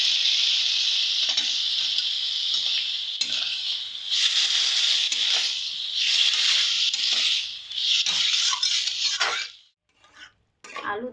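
Potato curry with coriander leaf paste and a little water is stirred in a pan: loud wet sizzling with repeated scraping strokes of a spoon, pausing near the end with a few clinks.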